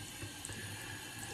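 Hot water runs steadily from a bathroom tap into a sink ahead of a New Year's wet shave, a soft continuous splashing stream heard up close with no talking.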